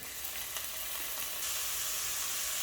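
Chopped tomato drops into a pan of frying onion and ginger, giving a steady close sizzle that jumps louder and brighter partway through, with faint stirring scrapes and no voices.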